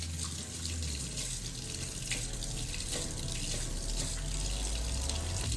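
Warm water runs steadily from a kitchen tap into a sink, a continuous broadband rush that holds even and fairly loud the whole time, with no voices.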